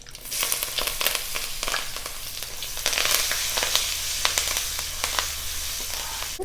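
Small shallots and curry leaves sautéing in hot oil with asafoetida, giving a steady close sizzle dotted with sharp crackles and pops throughout, no voices.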